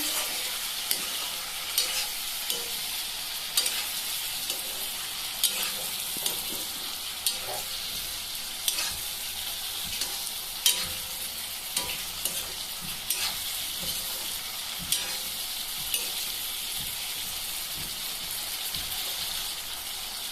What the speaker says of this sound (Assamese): বিলাহীটো ফুটি যাচ্ছে